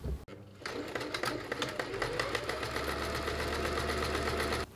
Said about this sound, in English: But first let's sew down these side seams.